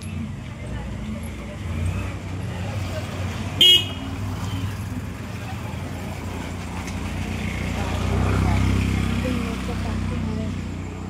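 Road traffic on a busy street on a trip to Alibag: a continuous rumble of passing cars and motorbikes, one short sharp horn toot near the middle, and a louder vehicle swelling past near the end, under faint background chatter.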